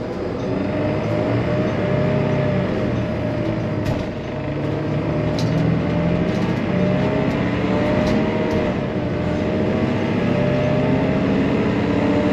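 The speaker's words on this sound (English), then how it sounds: "I really need to stop sitting at the back of the bus because the engine blocks are very noisy" From the back seats of a city bus, the engine gives a loud, constant low rumble and drone that fills the whole stretch without letting up.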